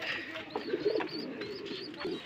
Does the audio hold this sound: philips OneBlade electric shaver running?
no